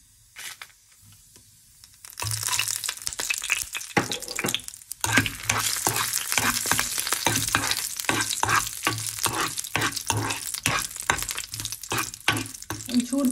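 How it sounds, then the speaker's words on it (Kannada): Cumin seeds and masala spices fry in oil in a pan. It is quiet at first, then a loud crackling sizzle starts with rapid repeated stirring scrapes close by. "ಒಂದು ಪ್ಯಾನ್ಗೆ ಆಯಿಲ್ ಹಾಕ್ಕೊಂಡು ಸ್ವಲ್ಪ ಜೀರಿಗೆ ಹಾಕಿದ್ದೀನಿ"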